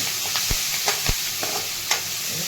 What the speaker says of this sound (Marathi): सगळं असं छान असं परतून द्यायचं